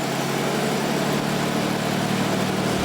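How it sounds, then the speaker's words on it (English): A classic car engine idles steadily with a low, even rumble and a constant hum, close by and unbroken for the whole stretch. "always fire her up just to make sure she sounds as good as she looks"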